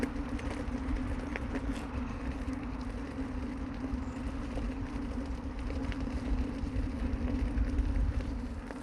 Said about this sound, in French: Vous entendrez sûrement les voitures qui passent